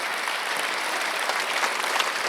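A church congregation at a Sunday worship service clapping together, a dense, steady wash of applause that fills the room for a few seconds.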